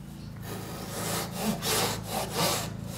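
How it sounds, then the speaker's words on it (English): A Japanese pull saw or back saw cuts through MDF in several rhythmic rasping strokes, close and fairly loud, with no talking. "Get your jap saw or back saw, and then just cut through that."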